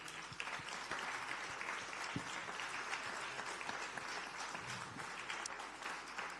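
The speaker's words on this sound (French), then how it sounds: "On peut l'applaudir, s'il vous plaît." Steady audience applause at an industry careers talk, dense clapping from many hands heard alone at moderate distance, sustained without pause.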